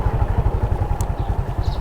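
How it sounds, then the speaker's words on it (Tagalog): Motorcycle engine idling close by in a hot town in Urdaneta, a steady low, rapid chugging pulse that holds loud and even throughout with no talk over it. "Andito yung motor niya."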